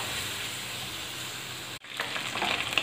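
Ginger-garlic paste sizzles in a pan with a soft, steady frying hiss, cut by a brief gap before a brighter crackle resumes, close and fairly quiet.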